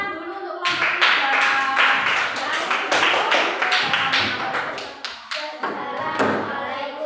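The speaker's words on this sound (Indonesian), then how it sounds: "tepuk tangan dulu untuk kelompok 3" A classroom of students clapping for a student group after its presentation, a dense burst of hand claps that swells, dips briefly and resumes, fairly close and loud, with no talk over it.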